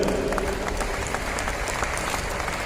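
Audience applause fills a film festival closing ceremony in Goa, India: dense, steady clapping from a large crowd that holds at an even level throughout, with no voices breaking through.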